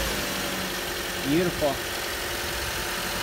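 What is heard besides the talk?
2014 Toyota Corolla engine starting and idling with new spark plugs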